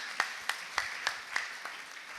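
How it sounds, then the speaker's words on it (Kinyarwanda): A church congregation claps in a steady, even rhythm, about three crisp claps per second, moderately close. The claps fade slightly toward the end. "Nimunyemerere tuyikomera amashyi."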